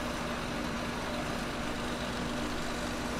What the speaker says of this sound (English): I really don't like the sound of that tractor